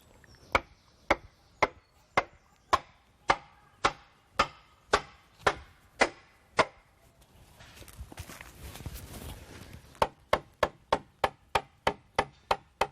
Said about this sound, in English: we then knock in the peg.